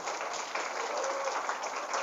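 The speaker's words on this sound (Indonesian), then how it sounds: "Tepuk tangan" A crowd of pesantren students at a motivational seminar claps briefly, a dense, moderate patter of applause lasting about two seconds.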